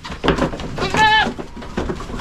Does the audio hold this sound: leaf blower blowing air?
no